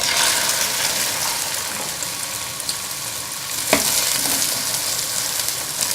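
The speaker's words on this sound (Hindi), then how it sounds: "अब हम इसके अंदर भिंडी डाल देंगे फ्राई करने के लिए।" Okra frying in hot ghee in a pan gives a loud, steady, close sizzle throughout, with one brief stir or clink partway through and no talk.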